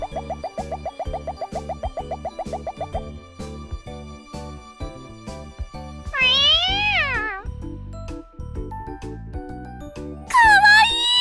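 A cartoon cat meows in the game Million Live Theater Days, two drawn-out wavering calls loud and up front over a bouncy backing tune with a steady beat.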